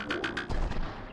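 Cruelty Squad pistol fired near a wall: three quick sharp shots in a row, then a heavier booming impact, loud and close.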